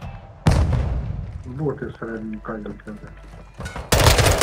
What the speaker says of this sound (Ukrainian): Він же двері стріляє.